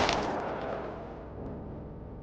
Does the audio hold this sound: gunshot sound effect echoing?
yes